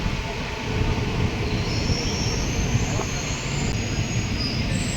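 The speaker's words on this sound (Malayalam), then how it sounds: "നമ്മൾ ഇപ്പോൾ പാലടി റെയിൽവേ സ്റ്റേഷനിൽ എത്തിച്ചേർന്നിരിക്കുകയാണ്" The Kottayam–Nilambur Express rolls into Paladi railway station with a loud continuous rumble of wheels on rails, a faint high squeal of brakes, and a sharp clank partway through.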